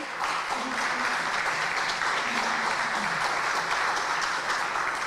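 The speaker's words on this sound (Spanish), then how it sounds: "el ingeniero Carlos Alfredo Machicao Pereira, para quien pido un aplauso también." A crowd applauds steadily at a book presentation, a dense and even wash of clapping that continues at the same level throughout, with no voices standing out.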